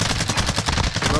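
Rapid automatic gunfire in Call of Duty Cold War Warzone rattles loud and close in a dense, continuous burst of closely spaced shots.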